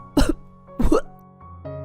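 Two sharp, harsh coughs close up, separated by a short pause, followed by a faint throaty sound.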